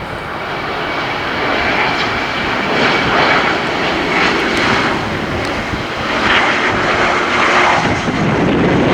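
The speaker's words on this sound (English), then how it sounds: "now it's the SAS CRJ900LR." An SAS CRJ900LR jet airliner passes at night, its engines making a steady, fairly loud roar that holds for the whole stretch with no voices over it.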